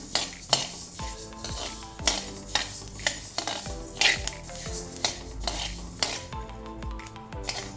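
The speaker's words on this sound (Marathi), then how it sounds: "आता ही आपली बाजरी भाजून झालेली आहे मी काढून घेते" Roasted pearl millet is scooped out of a pan with a metal utensil, producing a steady run of clanks and scrapes at a regular rhythm, close by and with no talk.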